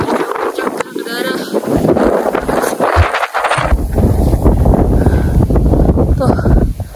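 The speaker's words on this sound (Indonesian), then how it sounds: "Anginnya kencang." Strong gusts roar across the microphone on the exposed, treeless slopes of Bukit Anak Dara hill in Lombok, a loud continuous rumble and buffeting that swells and dips throughout.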